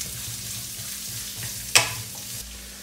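Bell pepper and onion frying in a pan over medium heat for chilli chicken, a steady soft sizzle with a brief sharp clatter of stirring partway through, no voices.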